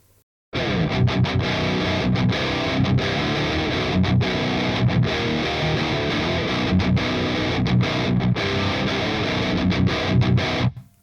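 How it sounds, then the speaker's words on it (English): Heavily distorted, high-gain 7-string electric guitar through an Audiority Solidus VS8100 Marshall Valvestate amp simulator, playing loud, dense riffs with short chugging stops for about ten seconds, no voice. "Now, high gain 7 string, because I have a 7 string."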